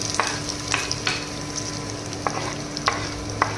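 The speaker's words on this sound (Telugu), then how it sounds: "తర్వాత కొంచెం పచ్చిమిర్చి, అలాగే ఆనియన్స్, కరివేపాకు కూడా వేసి వేయించుకుందాం." Green chillies, onions and curry leaves fry in oil in a pan for a lentil curry, making a constant hiss broken by several sharp spatula taps and scrapes at irregular intervals, close up and without talk.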